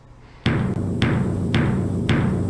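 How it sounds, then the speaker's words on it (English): Four evenly spaced bass drum hits from the Jumpstart Music PC game, each a loud, deep thump with a short decaying tail over a steady low background hum, no talking. "This is the sound that a bass drum makes."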